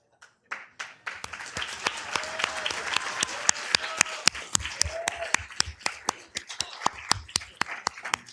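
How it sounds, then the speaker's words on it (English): A city council meeting audience claps for a newly sworn-in councilmember, starting with a few sharp claps and building into steady applause indoors, with some murmured voices underneath. "another round of applause"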